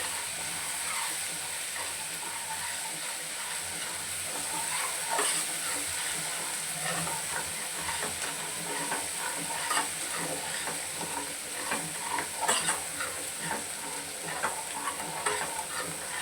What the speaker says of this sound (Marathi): तेलामध्ये छान असं परतवून घ्यायचं आहे हे वाटण